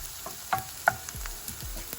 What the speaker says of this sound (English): So we'll let the garlic and ginger cook a little bit.